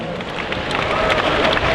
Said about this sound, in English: round of applause for our drummers.